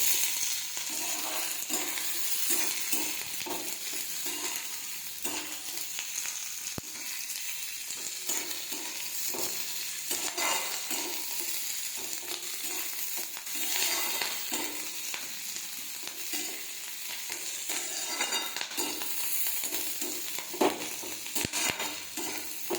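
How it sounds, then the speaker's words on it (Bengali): Capsicum and onion sizzle steadily as they are stir-fried in a pan, with continuous frying hiss and occasional scraping of the stirring utensil. "এবার আমি দিয়ে দেবো একটা ক্যাপসিকাম। ক্যাপসিকামটা নেড়ে নেবো।"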